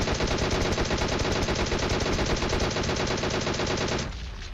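Sustained rapid automatic gunfire in the PUBG Mobile video game, steady dense shots for about four seconds, then stopping, with no talk over it.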